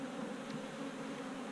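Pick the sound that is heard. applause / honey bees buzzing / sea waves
honey bees buzzing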